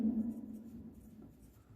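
A pen or marker writing the days of the week onto a bar chart in a Class V maths lesson, a steady soft scratching that fades slightly over a couple of seconds, with no talking over it.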